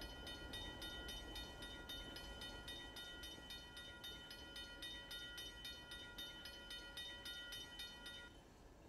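Local freight train of the Lakeland and Black Valley Railroad departing toward a plant yard, a steady rumble with rhythmic clicking wheels and metallic squeal running continuously, fairly loud and without talk.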